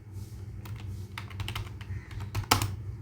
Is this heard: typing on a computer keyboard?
yes